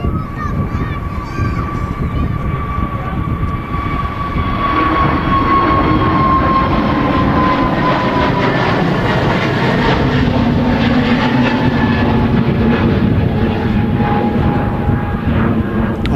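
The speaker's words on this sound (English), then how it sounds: "There goes the Pegasus A320neo heading back to, I don't know, is it off to Istanbul, is it? Antalya." A Pegasus Airbus A320neo passes at Manchester Airport in very windy weather. A loud, sustained jet roar with a whining tone is heard close by under gusty wind noise, with occasional talking.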